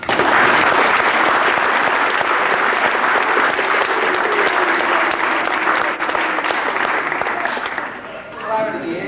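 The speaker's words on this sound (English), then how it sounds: "so everyone wants to give him a big clap." Loud, dense clapping from an audience at an end-of-year youth football presentation, sustained and close for several seconds before thinning out near the end as voices rise over it.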